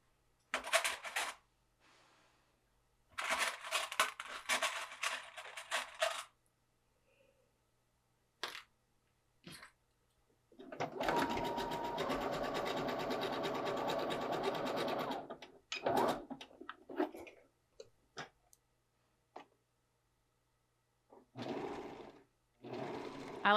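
Shoulder seams of dress facings stitched on a sewing machine, heard as several close bursts of motor whirring and needle chatter, one long steady run in the middle, separated by quiet pauses and small handling clicks.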